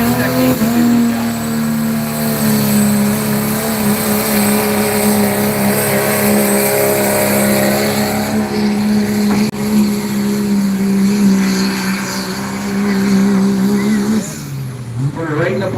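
A pulling truck at a county truck and tractor pull roars off the starting line, its engine droning loud and steady for many seconds before cutting away at the end, with an announcer talking over it.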